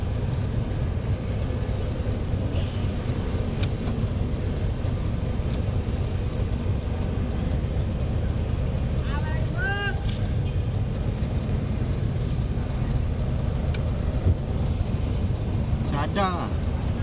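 City traffic in Bacolod heard from inside a moving vehicle: steady low engine and road rumble with wind buffeting, plus a couple of faint horn-like tones from passing vehicles, continuous throughout.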